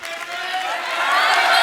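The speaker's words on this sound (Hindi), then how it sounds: "जोरदार तालियां हो जाए।" Studio audience applause and cheering on a Hindi comedy talk show, a dense wash of clapping that swells louder toward the end.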